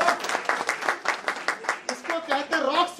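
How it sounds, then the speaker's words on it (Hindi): An audience claps at a birthday celebration, a short burst of fairly close applause that fades as a voice speaks over the end. "तालियां तालियां"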